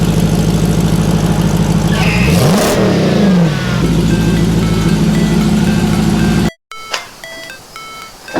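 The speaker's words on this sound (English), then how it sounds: "Before you pull it in, one baby rev." HEMI V8 swapped into a Jeep Wrangler JL, rumbling at idle and then giving one quick rising rev before settling, loud and close, ending abruptly with a few beeps afterward.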